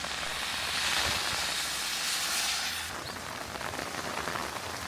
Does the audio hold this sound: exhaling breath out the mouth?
no